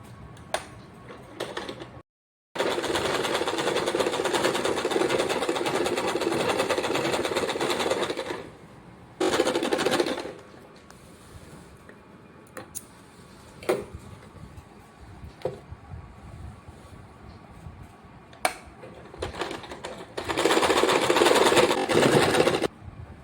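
Sewing machine stitching the fabric pockets of a wall hanger made from leftover cloth pieces, with long steady whirring runs broken by pauses, short bursts and small clicks of handling between them.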